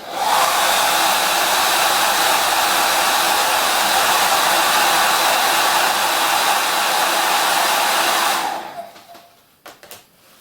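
A hair dryer blows steadily at close range over a freshly painted coat on a colour wheel, a loud continuous whoosh for about eight seconds before it cuts off, leaving a few faint knocks.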